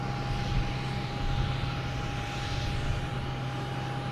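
An airplane taking off at Boston Logan Airport gives a steady, loud engine roar with a constant whine, sustained throughout without speech.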